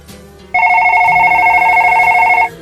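A telephone rings loudly in one steady, sustained electronic tone lasting about two seconds, then cuts off abruptly over faint background sound.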